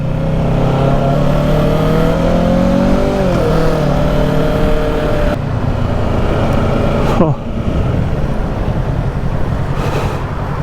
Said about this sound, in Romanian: Cred că un Ninja de 400, după cum se aude.